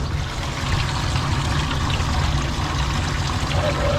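Water runs steadily into a drain while it is cleaned out during a corgi's grooming, a constant close pouring and trickling wash that carries on with no speech.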